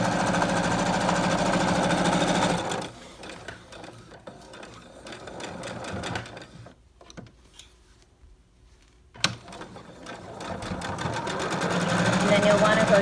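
A sewing machine stitches a face mask in loud, rapid runs at the start and end, with a quieter pause between them holding faint handling noises and a soft click.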